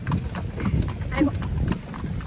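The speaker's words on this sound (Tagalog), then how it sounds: "I-video mo yung kabayo" Horse hooves clip-clop at a steady walking pace on a hard surface nearby, while people talk casually over the rhythmic clopping.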